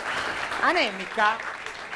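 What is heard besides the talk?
audience applause for the lady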